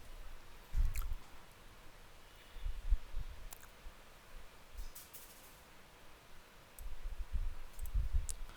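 A computer mouse clicking at a PLC trainer workstation, a few faint, sharp clicks spread across the stretch over low background rumble.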